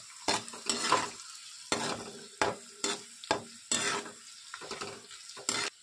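Cumin and mustard seeds sizzle in hot oil, with a series of sharp, rhythmic spatula scrapes and stirs against the pan, close and quiet, no voices.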